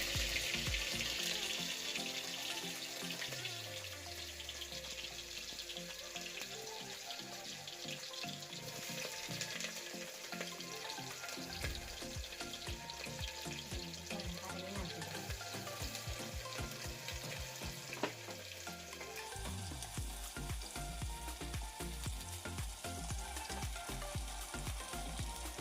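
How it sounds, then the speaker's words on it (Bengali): Onions frying in hot oil for mutton curry, a steady close sizzle with scraping stirs and occasional clatter, running continuously without talk. "পেঁয়াজগুলো ভালোভাবে ভেজে"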